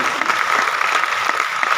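Audience applause for a theatre set designer, loud continuous dense clapping from a crowd throughout the short burst, no speech.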